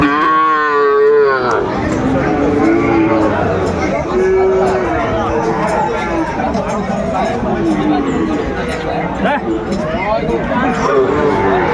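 Sahiwal bull calves at a crowded cattle market in Noakhali low and moo repeatedly, close and loud, amid constant crowd chatter and people talking nearby.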